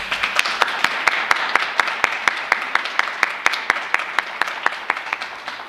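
Clapping in a meeting room for city and county employees, one or two people clapping close by in a fast, steady rhythm of crisp, evenly spaced claps over a faint wash of room applause.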